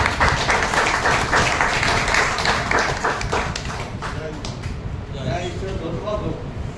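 A church congregation claps together in steady, dense applause that fades after a few seconds, followed by a person speaking over quieter background noise.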